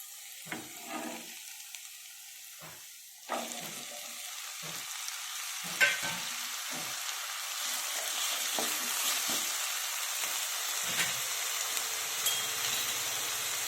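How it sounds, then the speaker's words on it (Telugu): Potatoes fry in hot oil in a pan, a bright continuous sizzle that swells after a few seconds, broken by intermittent scrapes and knocks of a spatula, close up and with no talking. "ఫ్రై అయిపోయినాయండి ఇప్పుడు ఇప్పుడు ఆలు వేసేసుకున్నాము"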